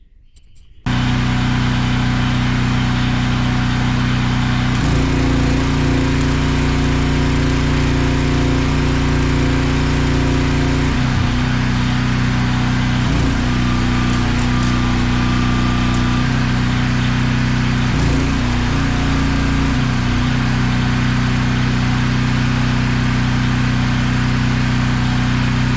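An engine-driven welder runs while parts are welded onto a John Deere 787 strip till, its steady mid-pitched engine drone shifting in load every few seconds and continuing alone throughout.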